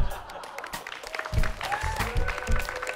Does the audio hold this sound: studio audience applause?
yes